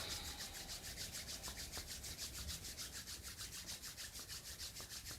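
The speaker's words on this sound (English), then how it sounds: "Rubbing your hands again." Steady, soft dry friction of palms rubbing briskly together during a hatha yoga session, a fast even back-and-forth rhythm held close and quiet throughout with no talk.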